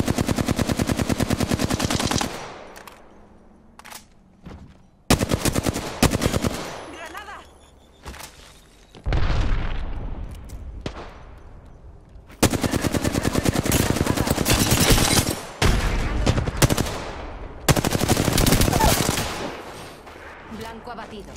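Automatic gunfire in the battle royale shooter Apex Legends, loud rapid bursts separated by short pauses, with some quieter stretches and decaying echoes between volleys.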